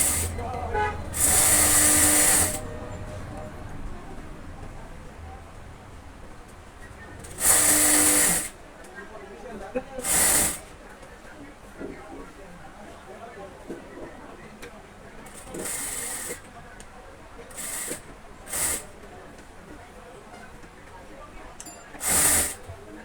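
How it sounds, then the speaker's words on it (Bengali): Sewing machine stitching pyjama pieces together, running in several short whirring bursts separated by pauses, with a person talking in the gaps and at times over the machine. "এখন আমরা পায়জামাটি হাই সেলাই করতেছি"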